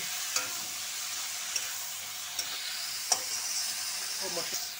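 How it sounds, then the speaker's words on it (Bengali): Ginger, garlic, onion and green chili masala frying in mustard oil in a pan, a continuous bright sizzle with occasional pops and clicks of a spoon as it is stirred, close by. "আদা রসুন পেঁয়াজ কাঁচা লঙ্কা সিডল সব কিছু এখন ভালোভাবে কষানো হচ্ছে।"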